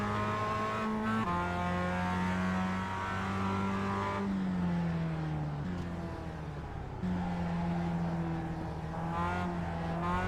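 A Mazda MX-5 race car engine at Laguna Seca in the iRacing simulator hums steadily with sustained harmonic tones, its pitch shifting between gear changes as it revs and settles, loud and continuous throughout.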